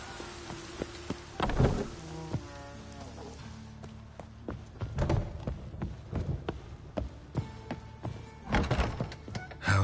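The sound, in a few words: rain and thunder in the video game The Witcher 3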